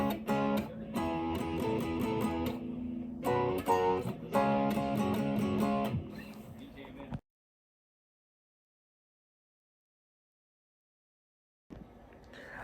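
An electric guitar plays a riff with rhythmic repeated chord stabs. It stops abruptly for several seconds of silence before a faint strum returns near the end.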